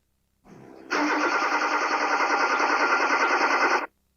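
A car engine cranks steadily under the starter for about three seconds, a fast, even churning rhythm, loud and close, with no talking.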